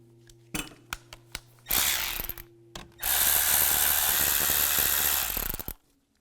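A 10mm socket ratchet loosening nuts on a 2017-2022 GMC Acadia during an intake manifold seal replacement: a few single clicks, then a short burst and a long, fast, continuous ratcheting run, close and clear with no talk.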